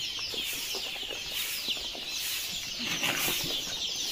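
Dozens of poultry chicks and local ducklings at a hatchery cheep in a dense, shrill, unbroken chorus while being boxed for delivery, with occasional soft rustles and flutters close by.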